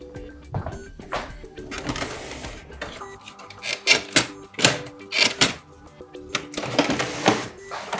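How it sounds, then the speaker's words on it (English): Paper loaded into the tray of a Brother MFC-J4335DW inkjet printer: a series of close plastic clicks, sliding scrapes and paper rustles in irregular bursts. "let's load the paper on our printer"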